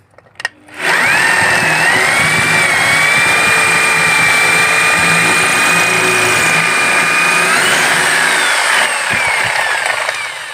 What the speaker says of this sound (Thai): แล้วเราก็เจาะเห็นไหม